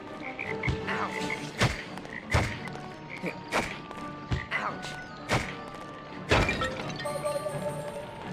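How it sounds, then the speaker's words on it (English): Many toads in the video game A Series of Unfortunate Events croak in a close chorus, punctuated by repeated sharp thumps and thuds at irregular intervals. "Look at all those toads."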